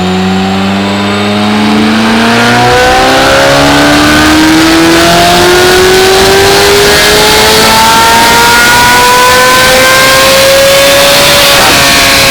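A C8 Corvette Z06 engine revs hard on a dyno, loud and close, its pitch climbing steadily through a long sustained pull that stays at full volume to the end.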